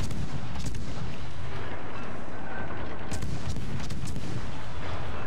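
Naval video game ship guns firing at an enemy destroyer: repeated heavy cannon blasts and rattling gunfire, loud and close, in a steady volley with no talk.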